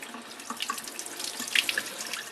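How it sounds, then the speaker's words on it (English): Hot water gushes steadily from an open basement faucet after a new electric water heater is filled, a close, even hiss and splash with faint sputters and no voices. "This is the hot water coming out right now."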